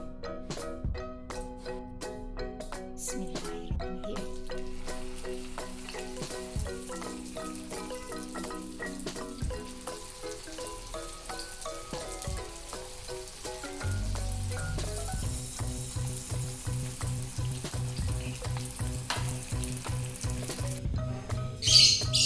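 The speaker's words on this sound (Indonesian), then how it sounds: "Oke, kita mulai penggorengan." Martabak telor fries in hot oil, a steady crackling sizzle with bright spitting pops that grows thicker and louder midway as more batter hits the pan, close up and without talk.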